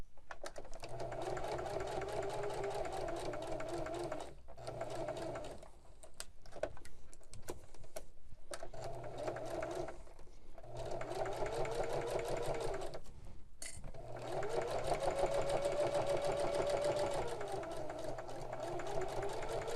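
A sewing machine stitches through the cotton muslin lining of an oven mitt, running in several long steady bursts with brief pauses between them, close and fairly loud.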